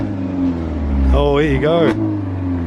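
An Alfa Romeo 4C with a tuned 1.75 engine revs once in a short, rising burst that swells and then drops away, while people talk nearby over a low idle rumble.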